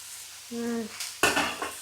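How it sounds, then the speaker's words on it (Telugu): Vegetables and peas tossed into a hot pan for egg fried rice made with poha, with a short tonal squeak, then a sudden loud sizzling burst and stirring clatter, close up. "బఠానీ కూడా వేసేద్దాం. అన్నీ వేపేద్దాం."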